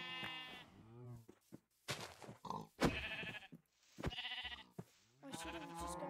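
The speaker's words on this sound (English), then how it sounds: "Okay, see these sheep?" Sheep in the video game Minecraft bleat repeatedly in short, uneven calls, fairly quiet overall, with several bleats overlapping in quick succession.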